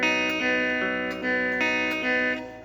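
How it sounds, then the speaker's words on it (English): Open strings plucked one at a time on an acoustic guitar in a slow repeating pattern of strings 4, 3, 2, 3, each note ringing into the next, close and clear with no talking. "These are all open strings and it should sound like this."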